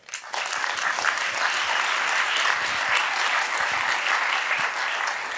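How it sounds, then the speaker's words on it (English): Conference audience at an international IP enforcement summit breaks into sustained, even applause for a panel, dense clapping rising quickly after a brief voice and holding steady. "So how about a round of applause for them?"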